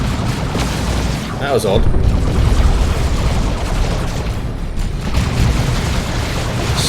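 Dense gunfire and booming explosions from the Dawn of War 2 strategy game, a loud continuous battle roar with someone talking briefly over it.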